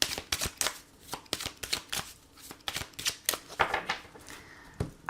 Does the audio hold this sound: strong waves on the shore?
no